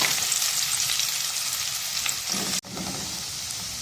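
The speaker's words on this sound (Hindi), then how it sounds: "ये प्याज स्लाइस इसमें डाल देनी है और लाइट सी ब्राउन कर लेनी है।" Sliced onions frying with cumin seeds in hot mustard oil: a loud, steady close sizzle, briefly cut by a sharp clack near the end before the frying carries on.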